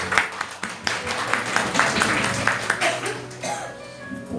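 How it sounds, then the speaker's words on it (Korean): An audience at a lecture held by a Jeonnam unification support group claps to open the talk, scattered and moderately loud applause mixed with some talking and background murmur, tapering off toward the end. "강연회를 여러분의 박수와 함께 시작하도록 하겠습니다"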